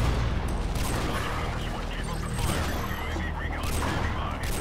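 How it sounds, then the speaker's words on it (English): Airstrike explosions in Call of Duty: Modern Warfare Remastered, a dense, loud barrage of booms and crackling blasts rolling continuously, with gunfire mixed in. "That's another free airstrike."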